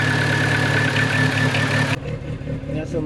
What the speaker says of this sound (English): 2-liter gas motor. Not very powerful, but runs really good as it stumbles.